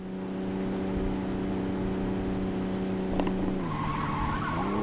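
Car drifting in Saints Row 2, a steady engine drone with a tire skid squeal rising near the end, loud and continuous with no talk.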